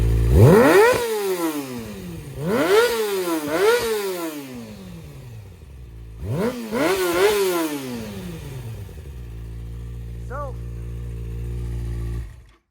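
A Kawasaki motorcycle engine with aftermarket Yoshimura headers revs hard several times in quick bursts, each rising and falling sharply, then settles into a loud, rumbling idle.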